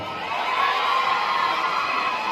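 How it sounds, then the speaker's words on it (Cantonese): Audience applause and cheering at a promotional warm-up event for the 18th Asian Film Awards, a steady, dense wash of crowd noise with whoops and shouts sustained throughout at fairly high level. "我哋不如用你哋熱烈嘅掌聲同埋歡呼聲，一齊叫佢嘅名字出嚟得唔得？"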